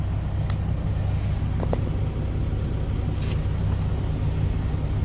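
A large truck is parking close by with a spotter guiding it. Its engine gives a constant heavy rumble, joined by a few brief higher hisses and clicks; no one speaks.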